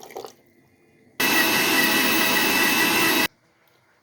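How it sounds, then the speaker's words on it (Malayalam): A mixer grinder blends grated coconut with water to make coconut milk for carrot soup: a loud, steady whirring roar of about two seconds that starts and stops abruptly, with quiet before and after. "വെള്ളം ഒഴിച്ച് ഒന്ന് അടിച്ചെടുക്കുക"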